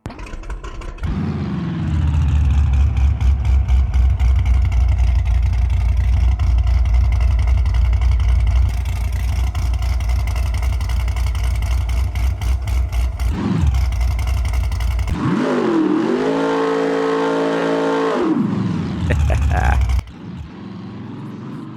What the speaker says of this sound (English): I'm going to fire this car up and I'm going to let you guys hear it